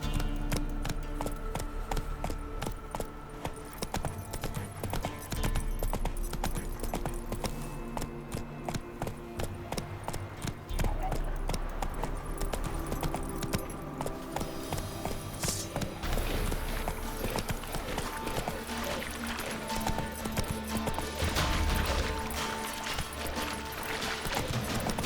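Roach the horse trots along in The Witcher 3, her hooves clip-clopping steadily over a bed of music and ambient game sound, with no talking.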